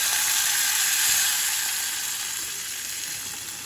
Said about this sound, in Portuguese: Agora eu vou colocar esse feijão.